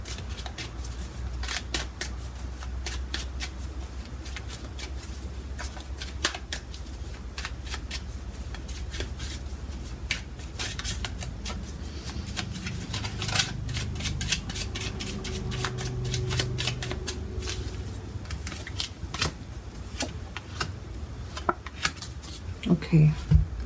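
Tarot cards shuffled by hand for a Celtic Cross spread, a steady close riffle of rapid card flicks and snaps continuing throughout, with a voice talking over parts of it.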